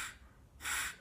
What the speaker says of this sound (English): It's, if you're just blowing into the call,